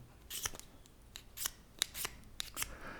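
A striker scrapes the protective coating off a ferro rod in a series of sharp, close scratches, about half a dozen quick bright strokes at irregular intervals over low background noise, quiet overall.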